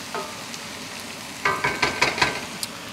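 Onions sizzling as they cook in a pan for an onion, mushroom and pea sauce, a soft steady frying hiss with bursts of crackle and stirring scrapes toward the end, no voices.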